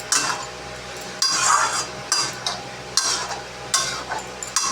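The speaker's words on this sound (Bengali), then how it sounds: "বড়ি ভাজা আছে।" Bori lentil dumplings fry with greens in a pan, bursts of sizzling rising each time a spoon stirs and turns them, with scraping strokes spaced a second or so apart.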